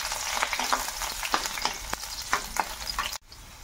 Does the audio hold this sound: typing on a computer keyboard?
no